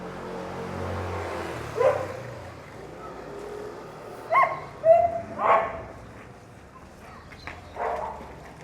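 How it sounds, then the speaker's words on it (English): Angry dogs bark in a street in Barrio San Antonio, Cali, Colombia, giving several separate short bursts at moderate distance over a steady background hum of traffic. "Some angry dogs there."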